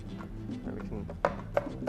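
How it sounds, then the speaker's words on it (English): A knife chops an onion on a board, giving a few sharp knocks, one of them clearer, under close talking from a person cooking. "this is how to properly chop an onion"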